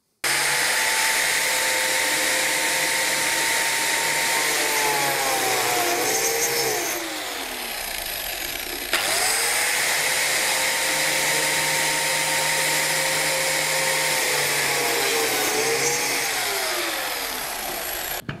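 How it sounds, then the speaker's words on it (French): Power tool notching oak wood, a steady loud whine running continuously with two slow dips in pitch as the cut is made, no talking. "bien tenir la machine et surtout la faire démarrer avant d'attaquer le bois"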